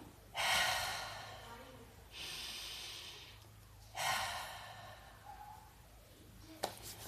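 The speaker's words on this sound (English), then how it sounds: "take a big deep breath in through the nose. And sigh it out." Deep breaths drawn in through the nose and sighed out during a guided relaxation: three loud, close breath sounds, each a few seconds long with a pause between, ending in a faint click.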